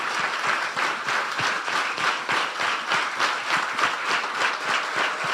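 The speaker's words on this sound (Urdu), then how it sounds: "زوردار تالیاں." A church congregation breaks into loud, sustained applause, dense rhythmic clapping from a large crowd filling the room evenly for several seconds.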